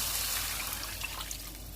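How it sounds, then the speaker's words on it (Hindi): Water is poured into a cooking pot of spiced beef for daleem, a brief, soft, continuous splash and trickle close to the microphone, no talking. "अब इसमें मैं 4 गिलास पानी डाल दूँगी"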